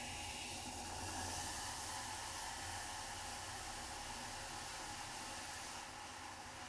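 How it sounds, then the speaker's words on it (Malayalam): Tandoori chai poured into a clay pot that has been heated on a flame, giving a continuous loud sizzling hiss that fades slightly near the end, with no talking. "ഇനി നമുക്ക് ഇതിലേക്ക് ചായ ഒഴിച്ചു കൊടുക്കാം"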